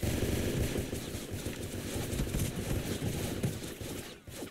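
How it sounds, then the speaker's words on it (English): Rapid automatic gunfire in a video game shooter, dense bursts of shots filling the whole stretch at a loud, near level before cutting off at the end. "Someone shooting me from the back?"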